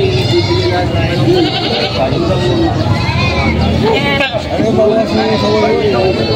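Goats bleat repeatedly at a livestock market in Padre Garcia, Batangas, their wavering cries rising over dense crowd chatter as people talk nearby.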